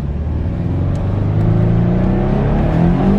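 A turbocharged Toyota 86 engine revs loud and close, its note climbing steadily and continuously with a strong low-end rumble throughout.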